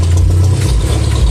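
A jeepney's engine rumbles steadily from inside while riding, a loud, low, continuous drone with no voices over it.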